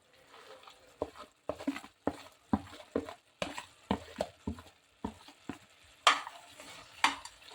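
Dry fruit tossed into carrot halwa and stirred, a rhythmic series of spoon scrapes and thumps against the pan over a faint sizzle, close and steady.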